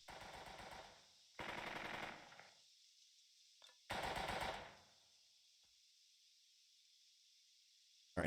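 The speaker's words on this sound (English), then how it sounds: "Machine gun." Machine gun fire in the World War II strategy game Burden of Command comes as three loud, rattling bursts of about a second each, with quiet gaps and faint distant knocks between them.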